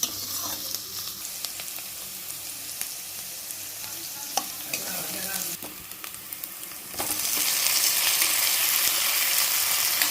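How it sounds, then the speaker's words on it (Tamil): Onions sauté in a pan with a continuous sizzle and occasional scraping stirs, the frying growing louder and brighter toward the end. "வெங்காயம் நல்லா வதங்கணும் ஆமாம் கொஞ்சம் ப்ரௌனாக வர வரைக்கும் வதங்கினா போதும்"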